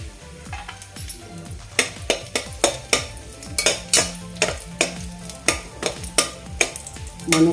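Raisins fry in ghee in a pressure cooker pot, a low sizzle punctuated by a steady series of sharp spoon scrapes and stirring clinks against the metal.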